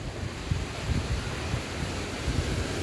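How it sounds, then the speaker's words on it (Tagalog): Strong sea waves surge and wash in a continuous rough roar, with heavy wind buffeting the microphone and low thumps of surf breaking close by. "Malakas ang alon nito."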